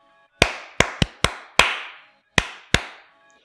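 Seven crisp hand claps in an irregular pattern, five in a fairly quick run and then two more after a pause, close and loud, clapped for counting in a guessing game, with no voices.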